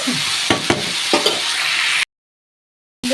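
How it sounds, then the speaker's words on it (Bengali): Cauliflower and potato being sautéed in a pan, with a close sizzle broken by several scraping stir strokes, then a sudden silence of about a second before the frying sound resumes. "ফুলকপি আলুটা একদম সুন্দর করে কষিয়ে নিয়েছি।"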